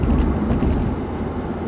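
A car climbs a hill on light throttle at about 40 mph, giving a steady, close interior rumble of engine and road noise.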